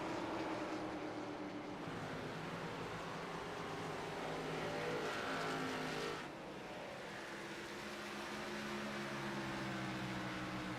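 Stock cars in a NASCAR Xfinity race at New Hampshire roar past on the oval, a loud, sustained engine drone with shifting pitch as cars pass, briefly dipping before swelling again, without voices.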